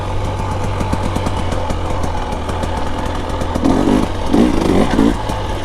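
A 2025 Husqvarna TE 300 Heritage edition dirt bike is ridden along a trail, its two-stroke engine buzzing loudly and steadily up close, swelling in revs toward the end amid faint clatter.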